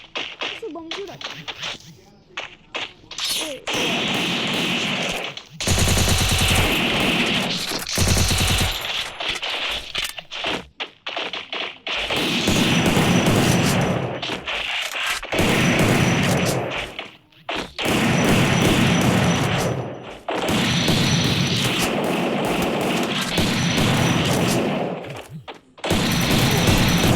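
Free Fire gunfight with long bursts of rapid automatic fire in several sustained volleys separated by short gaps, loud and close, with a player talking between and over the shots.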